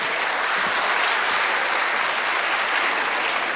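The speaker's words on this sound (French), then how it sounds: "Mais vous pouvez applaudir quand même Alain Eikerman." Loud, sustained applause from a large audience at an awards ceremony, an even wash of clapping with no pauses throughout.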